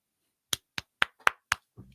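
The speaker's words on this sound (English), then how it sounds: "Golf clap." Golf clap: five slow, evenly spaced soft hand claps, close and isolated, followed by a faint shuffle at the end.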